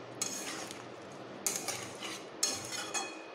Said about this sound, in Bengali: জল দেওয়ার পরে আমি জলের সঙ্গে এইভাবে মিশিয়ে